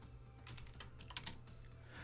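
Quick bursts of clicking on a computer keyboard while program code is typed into the Lazarus editor, soft and close with no voices.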